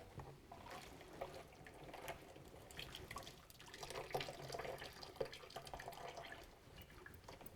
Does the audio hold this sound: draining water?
yes